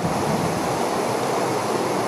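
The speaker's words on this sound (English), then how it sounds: "Lots of water coming down the river today" A swollen river rushes beneath Post Bridge on Dartmoor, a steady, dense roar of high water that stays constant and close with no pauses, nothing else heard over it.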